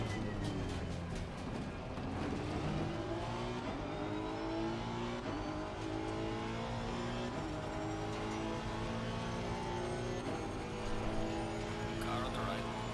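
An Acura NSX race car at Bathurst's Mount Panorama circuit in a racing video game roars continuously at high revs, engine pitch climbing and shifting as it passes another car, loud and close throughout.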